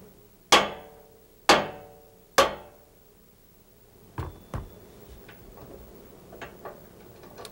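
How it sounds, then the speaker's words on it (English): A mallet drives a rotary valve out of a tuba: three loud, ringing metallic blows about a second apart, then several lighter, duller knocks and faint taps, close by with no talk. "with our mallet, give some solid blows that will drive this valve out"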